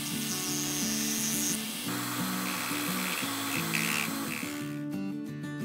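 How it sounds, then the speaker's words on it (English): Steady metal-cutting drone from a lathe back cutting a weld bead on a welded flange, with shifting tonal whine as the tool moves, close and continuous, ending in a quieter tail. "So the plan is to back cut the weld bead on the lathe."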